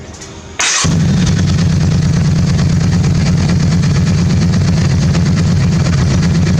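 A Yamaha V-Star 650 motorcycle cranks briefly and fires up, then settles into a loud, rumbling idle close by during carburetor syncing.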